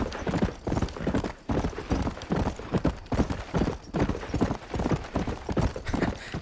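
A horse gallops in Red Dead Redemption with fast, even clip-clop hoofbeats that stay close and loud, plus a faint hint of breathing, and no voices on top.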